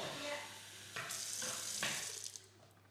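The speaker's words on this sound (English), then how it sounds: "What I'm going to do is fill up these cans with water." Running water pours from a kitchen tap into tomato cans during home cooking, a steady close rush with brief louder surges, no talking.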